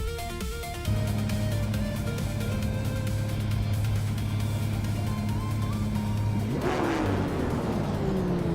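Engine of a 2016 Ford GT GTE-class race car in a racing video game at Twin Ring Motegi West, a loud sustained drone rising in pitch as it accelerates, then a sharp shift and renewed climb.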